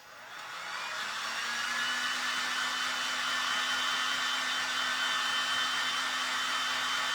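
A hair dryer whirs on and rises to a loud, steady airy roar with a faint motor hum underneath, running continuously up close with no talking.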